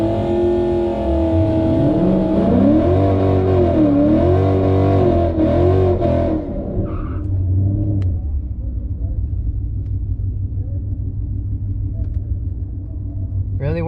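A Ford Mustang GT500 engine roars loudly with rising and falling revs for about seven seconds, then settles into a steady lower rumble that drones on to the end.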